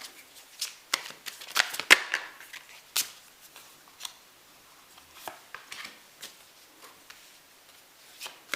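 Tarot cards being shuffled by hand, a series of quick close riffles and slaps with short pauses between bursts, crisp and fairly loud with no talking.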